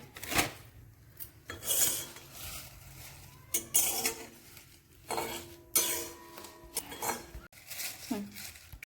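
Coriander seeds and bay leaves being dry-roasted in a pan give off repeated scraping and clinking of a utensil against metal, arriving in short uneven bursts with quieter gaps between.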